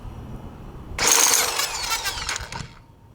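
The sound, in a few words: impact driver opening scooter CVT clutch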